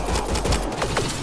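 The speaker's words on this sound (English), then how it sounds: "They shot him!" Gunfire in the video game Mass Effect: Andromeda: a rapid fusillade of shots crackling densely over a loud, continuous battle din, with no pauses across the brief moment.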